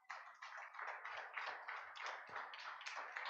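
Clapping in a church, a faint, thin patter of hand claps from a small number of people, quiet and somewhat distant, continuing steadily for a few seconds.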